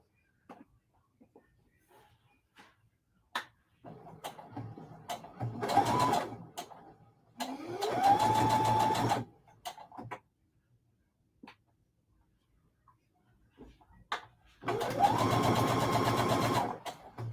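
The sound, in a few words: sewing machine stitching quilt pieces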